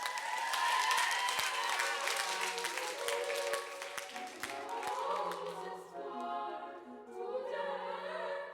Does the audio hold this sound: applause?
yes